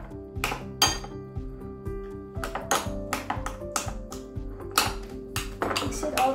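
A metal spoon clinks rhythmically against a cup while stirring evaporated milk into a drink, bright repeated pings and taps close to the mic, ringing briefly after each strike.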